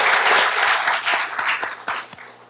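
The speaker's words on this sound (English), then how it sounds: "and you could applause that." An audience at a Long Beach school board meeting breaks into applause, a loud, dense burst of clapping that thins out and fades over a couple of seconds.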